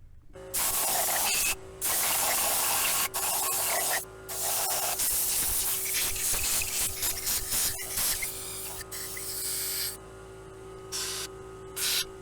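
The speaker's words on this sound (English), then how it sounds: "let me fire up my air compressor. I'll blow this block off" Compressed air blasts from an air compressor nozzle, blowing debris off a Toyota, Honda, Lexus or Acura engine block being prepped for a head gasket; loud, close hissing bursts, several in a row separated by brief pauses.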